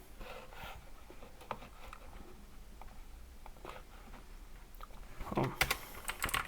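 Go code typed on a computer keyboard, a run of quiet, irregular key clicks and taps, close, with a quick louder burst of keystrokes near the end and no speech.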